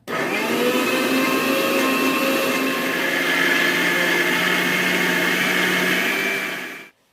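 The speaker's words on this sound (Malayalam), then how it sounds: "ഇത്രയും സാധനങ്ങൾ ഇട്ടിട്ട് നമുക്ക് വില ഒന്ന് അരച്ചെടുക്കണം" A mixer grinder blending egg fruit with sugar runs loud and steady for about seven seconds, a dense whirring roar with a constant motor whine, then cuts off abruptly.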